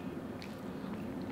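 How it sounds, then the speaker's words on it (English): Someone chews a creamy melted ice cream dessert with crunchy cereal chunks, soft close squishy bites with a few faint crisp crunches over a quiet, steady background. "You can probably hear the crunch from over there."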